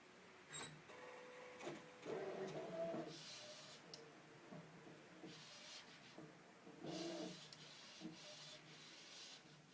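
A sheet printer, model 2400 Pro, runs through its print cycle with whirring feed passes and mechanical clicks, in repeated bursts at close range.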